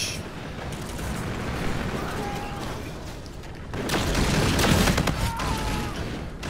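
Dense, noisy gunfire from a weapon in a Gun Game match of Call of Duty: Infinite Warfare forms a continuous loud burst of shots that swells louder partway through.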